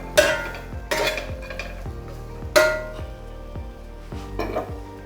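A spoon works okra into masala in a pan, making several sharp metallic clanks and scrapes against the pan spread over a few seconds, with quieter stirring between the louder knocks and no talk.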